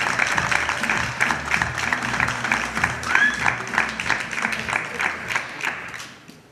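An audience claps loudly for two performers at a live concert, with a sustained dense patter that slowly fades toward the end, over a faint murmur of the crowd.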